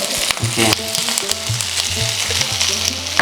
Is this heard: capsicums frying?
yes